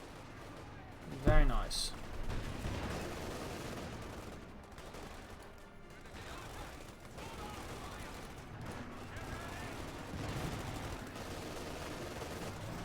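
Grenade blast and gunfire in the World War II strategy game Company of Heroes 2: a sharp loud burst early on, then a dense, steady battle din of shots and artillery beneath a continuous commentator voice.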